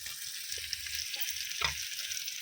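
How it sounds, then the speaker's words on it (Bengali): Tomato, green chili and onion fry in a pan over a small stove, a steady broadband sizzle running throughout with a few soft stirring taps and scrapes, close and alone. "একদম লাল লাল করে টমেটো কাঁচা লঙ্কা পেঁয়াজ ভেজে নিয়েছি"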